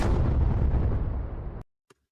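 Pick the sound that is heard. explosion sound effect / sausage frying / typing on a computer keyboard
explosion sound effect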